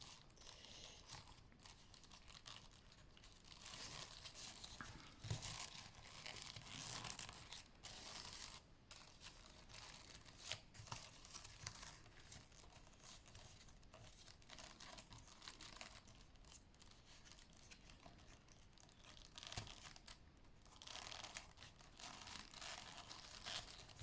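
Blunt-tipped scissors cut through newspaper in a quiet room, giving a long run of soft, uneven snips and papery crinkles, faint and close, with no voices.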